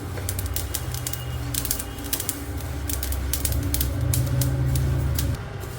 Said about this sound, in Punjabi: ਅਸੀਂ ਉਨੀ ਦੇਰ ਇਹਨੂੰ ਭੁੰਨ ਲਵਾਂਗੇ ਜਿੰਨਾ ਚਿਰ ਪੂਰੀ ਚਟਕਣ ਦੀ ਆਵਾਜ਼ ਨਹੀਂ ਆਉਂਦੀ